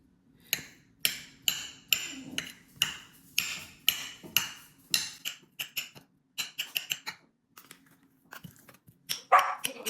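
A dog barks repeatedly in a steady run of sharp, fairly close barks, with short pauses and a brief higher yelp near the end, no talking over it.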